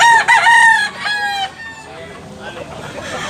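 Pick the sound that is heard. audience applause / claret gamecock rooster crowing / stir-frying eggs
claret gamecock rooster crowing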